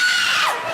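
Someone lets out a short, high-pitched scream aimed at scaring Alan Carr, loud and close, with a brief falling wail near the end and no talk over it.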